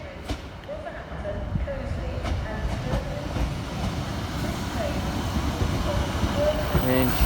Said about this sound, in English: departing behind me is the Pendolino service to Manchester Piccadilly